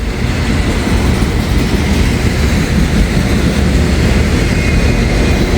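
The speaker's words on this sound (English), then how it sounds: "M511 is usually a really long train." A long CSX freight train, M511, passes nearby with a loud, unbroken roar of rumbling wheels and rolling cars that holds steady throughout.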